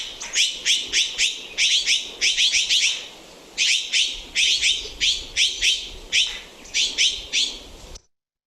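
A bird repeats a series of bright, rapid chirping calls in short bursts with brief pauses, loud and close, against a faint background.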